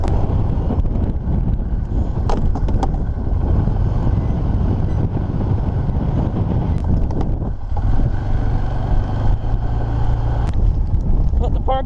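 A four-wheeler engine runs out on the ice during a blizzard with winds over 50 mph, a steady loud rumble buried under heavy roaring wind buffeting the microphone, with a few scattered knocks.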